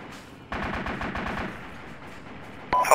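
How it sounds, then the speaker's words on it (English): A rapid burst of automatic gunfire rattles out for about a second during tank combat in a video game, followed by a quieter pause and a sharp, brief noise at the end. "Hold fire, you're shooting towards me."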